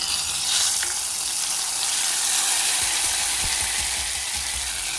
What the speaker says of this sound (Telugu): ఈ పోపు అయితే ఇందులోకి వేసుకున్నాం